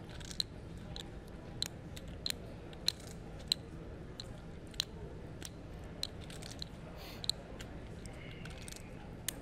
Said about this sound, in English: he's really chewing the gum hard